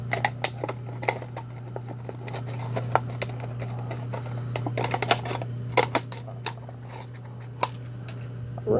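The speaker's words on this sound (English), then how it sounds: "I need to trim the shit out of this." Trimming powerhead filter material, repeated short snips and crisp cuts at an irregular pace over a steady low motor hum.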